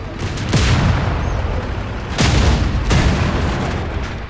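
Tank cannon fire and explosions in a tank video game: three loud, booming shots land in quick succession, each with a deep rumbling decay over steady background engine noise.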